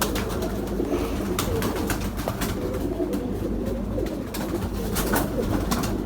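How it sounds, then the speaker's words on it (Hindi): Firozpuri pigeons coo repeatedly in a loft, soft rolling calls overlapping steadily at close range over a low background hum. "ये बेसिक हमारे फिरोजपुरी कबूतर हैं"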